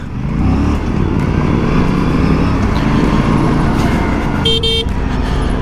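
Aprilia RS 457 motorcycle being ridden on a road, a loud, continuous engine drone and wind rush with passing traffic and a brief horn toot near the end.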